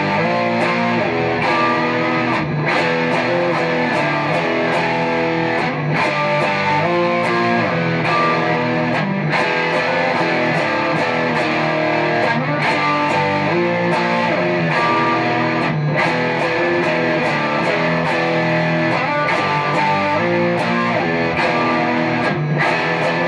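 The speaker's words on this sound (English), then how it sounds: "Let's hear how the pedal sounds with the gain cranked on a single coil guitar." Strat-style single-coil guitar driven through a TC Electronic Dark Matter distortion pedal with the gain cranked, thick saturated chords chugging in a dense, loud, continuous wall with rhythmic strum accents.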